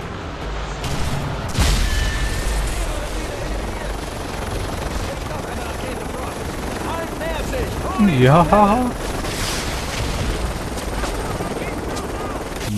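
A helicopter drones in the background amid gunfire and dull booms in Call of Duty: Modern Warfare 3, with a person talking briefly over the constant mechanical thrum.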